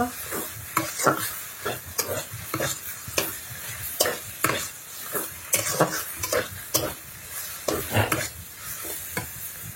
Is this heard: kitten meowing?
no